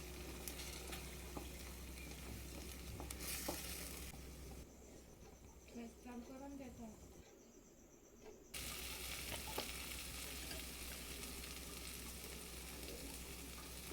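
Spices sizzle in hot oil with Kashmiri red chili powder, homemade chili powder and sambar masala, giving a steady frying hiss. A quieter pause in the middle lets stirring be heard before the sizzle returns loudly.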